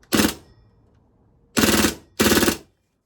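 A VORSK VMP1 gas airsoft gun fires on full automatic in three short, loud bursts, the first under half a second and the next two slightly longer, separated by quiet pauses.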